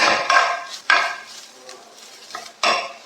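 Spices and half a teaspoon of turmeric stirred in a pan for butter chicken, with several sharp spoon scrapes and clinks against the pan in bursts and a faint sizzle underneath, close and fairly loud.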